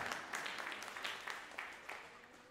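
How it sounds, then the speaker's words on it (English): A church congregation applauds during an Easter Sunday service, a soft, somewhat distant patter of clapping sustained throughout with faint background murmur. "I was expecting more applause."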